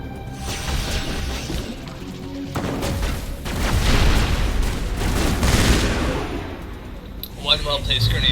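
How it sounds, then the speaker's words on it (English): A grenade blast in the Mass Effect video game sets off a long, loud roaring rumble and crashing debris amid ongoing gunfire, with a few sharp clanks near the end. "One well-placed grenade"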